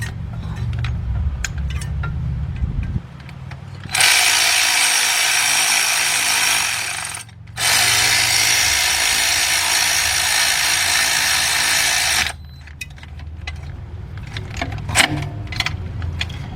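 A power ratchet spins engine bolts loose on a 2005 Cadillac CTS with a 3.6 engine and a knocking fault: two long, loud, steady whirring runs, each several seconds, split by a short pause, with quieter clinks of tools before and after.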